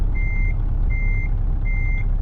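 Reversing warning beeps from a Scania lorry hauling a heavy trailer in Euro Truck Simulator 2, three steady sustained tones repeating at a slow even rhythm over a constant low engine rumble.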